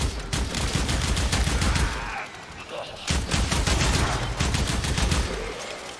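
Comb weapon in the Warframe video game firing rapid automatic bursts, loud and close, with a brief lull near the middle before the dense fire resumes.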